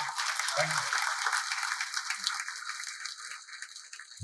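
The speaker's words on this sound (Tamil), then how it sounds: "நல்ல கைத்தட்டு கொடுங்க அவருக்கு." Audience applause greeting a film newcomer at a Tamil movie event, a dense wash of clapping that holds steady at close range for the whole stretch, with brief voices breaking through now and then.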